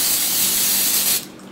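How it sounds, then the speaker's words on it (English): Vegetable shortening sprayed from a can onto a baking pan in a home kitchen, one loud continuous close hiss lasting over a second, then cutting off abruptly. "Now we should start by spraying our baking pan with the vegetable shortening."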